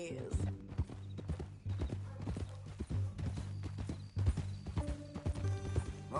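In Red Dead Redemption 2, a horse's hooves clip-clop at a steady walking rhythm, close and distinct, while characters talk over them.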